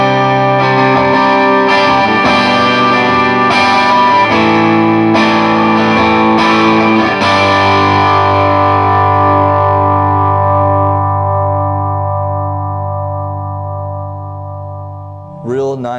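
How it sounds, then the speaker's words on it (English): An electric Telecaster on its bridge pickup plays distorted chords through an 8 Watt Little Walter amp head, a few strummed hits ringing out before a long, slowly fading sustained chord, with a brief string noise at the end. "I'm going to switch back to the bridge pickup for a little bit of dirt here"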